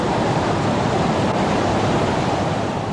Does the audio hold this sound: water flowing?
yes